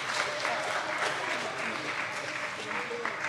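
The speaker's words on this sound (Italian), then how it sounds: "allora un applauso all'insegnante" Applause for a teacher at a school science prize ceremony, ScienzEstate 2024: a steady, dense wash of many hands clapping at an even level throughout, with a faint murmur of voices underneath.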